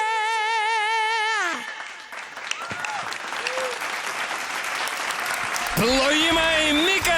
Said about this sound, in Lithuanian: Plojimai Mikai